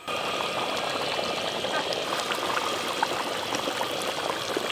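Water poured into a pan of browned chicken curry makes a steady, continuous rushing pour with a faint hiss, even in level throughout.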